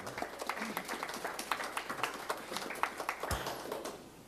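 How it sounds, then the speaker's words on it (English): A small room of people gives a round of applause at a county Board of Health meeting, a soft, sparse spatter of separate claps heard from a distance. "Let's give the team a round of applause."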